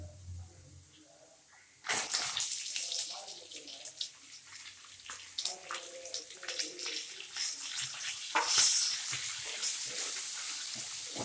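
Onions hit a hot pan for a mint chutney with a sudden burst of sizzling after a quiet start, then crackle and hiss steadily at moderate volume.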